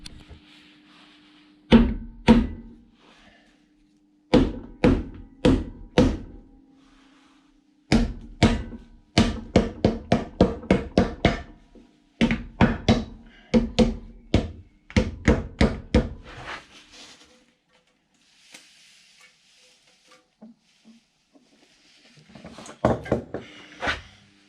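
Hammer tapping a part off an R53 Mini, sharp knocks in rapid bursts and clusters separated by short pauses, close and loud, with a faint hum beneath and a few scattered taps near the end.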